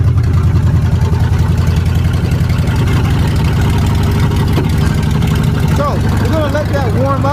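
A Ford Maverick engine with electronic fuel injection problems idles as it warms up: a loud, steady, even rumble throughout, close to the mic, with faint wavering whistles near the end.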